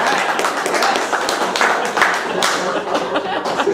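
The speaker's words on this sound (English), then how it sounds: "Should we do a round of applause?" Audience applause at a talk by a task force officer, a dense patter of many hands clapping steadily for several seconds with scattered chuckles mixed in.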